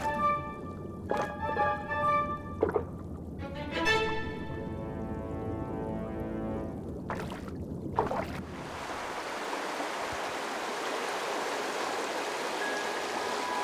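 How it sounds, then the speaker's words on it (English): Water courses through a stream in the Wutach Canyon, a steady broadband rush of flowing water that grows fuller and more constant after a few sharper splashy sounds at the start. "The water coursing through the Wutach Canyon has traveled from the high Alps and made its way through rock crevices, lakes, and streams"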